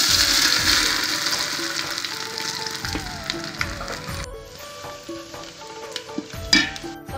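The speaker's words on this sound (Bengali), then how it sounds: "তরকারিটা ভাজা হয়ে গেছে," Vegetable curry frying with five-spice, ginger, cardamom and cinnamon sizzles in a pan amid stirring scrapes and clinks, strong at first then quieter, with some utensil knocks near the end.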